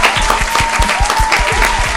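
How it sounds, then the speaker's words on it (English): Loud clapping in a podcast studio with only a few people, heard close as a rapid run of individual claps, alongside a low thumping pulse. "Let's get a round of applause for the people on Instagram live."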